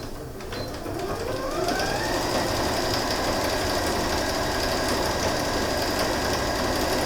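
A sewing machine runs a continuous seam through pinned fabric for a gathered cap, its motor whirring up to speed within the first two seconds and then humming steadily and loudly on its own.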